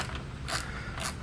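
Bolts being loosened on the cracked tank panel of a BMW K1200S motorcycle, two short metallic clicking ratchet bursts about half a second apart, close and fairly quiet, with no talking.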